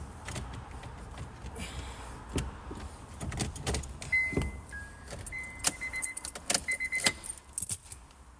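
Keys jangle in bursts, metallic and close, alongside car sounds including a whirring power window and short electronic tones.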